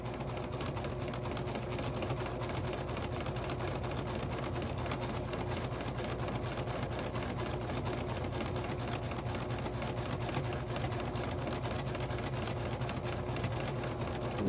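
Pfaff sewing machine stitching fabric, a fast, even mechanical clatter of needle strokes that runs steadily and close for the whole stretch with no talk.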